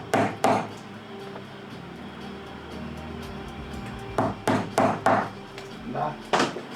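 A hammer strikes a multi-prong hole punch through leather for a crossbody bag, giving sharp, close knocks in small clusters: two early blows, then a quick run of four or five strikes near the end.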